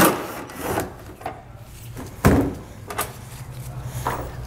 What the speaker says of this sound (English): You should be able to grab the tail light, kind of work it, pull straight back on it.